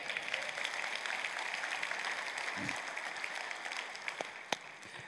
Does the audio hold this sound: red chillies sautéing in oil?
no